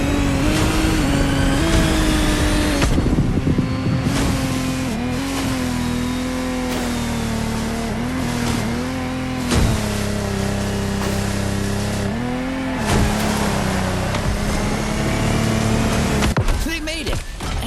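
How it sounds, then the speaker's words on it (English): Lamborghini Technomar speedboat engine racing across open water, a loud sustained roar that rises and falls in pitch as it revs, with a voice talking over it throughout. "our challenger handled that gorgeous Lamborghini Technomar like a true sailor"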